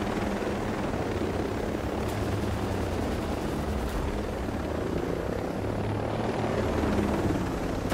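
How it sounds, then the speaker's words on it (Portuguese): Helicopter in the Ghost Recon Breakpoint video game, a loud continuous rotor thump and engine roar holding steady and close for the whole stretch, with no voices over it. "já apareceu o helicóptero aqui."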